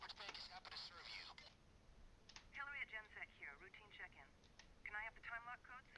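In a Payday 2 bank heist, a telephone gives faint, brief tones during a short dialing sequence, mostly masked by voices talking over it.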